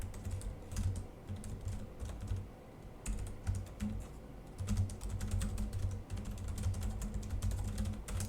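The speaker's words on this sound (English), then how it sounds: "let's do a little typing test here" Typing on the keyboard of an AceMagic AX15 budget laptop with a full-size numpad: a fast, continuous run of soft, snappy key clicks, close and fairly quiet, with no talking.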